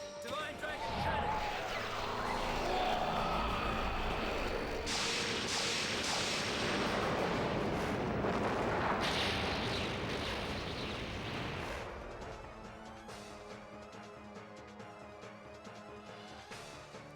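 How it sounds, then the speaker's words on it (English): Divine Dragon Cannon attack from the Legend of Dragoon video game: a loud, sustained blasting roar that surges for about twelve seconds, then drops away into quieter game music. "Divine Dragon Cannon!"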